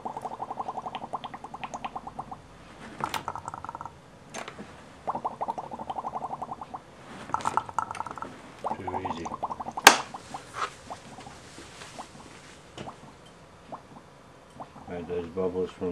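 Repeated bursts of gurgling bubbles through liquid in a fermenting barrel airlock made from plastic shot cups and tubing, a few seconds each, close by, with quiet pauses and small clicks between them.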